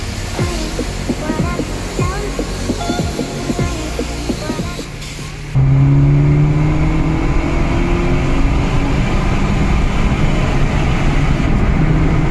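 A modified Fiat Uno Turbo ie with over 200 hp and a louder exhaust line revs hard while driving, a loud steady engine roar that shifts pitch midway, close and continuous with no talk.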